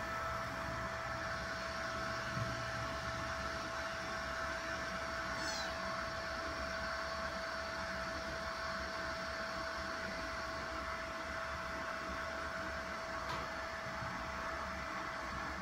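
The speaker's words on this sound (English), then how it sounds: "this printer is very loud" An Anycubic M5S resin 3D printer runs with a steady, loud whirring drone and a constant high tonal whine, unbroken throughout and with no talking.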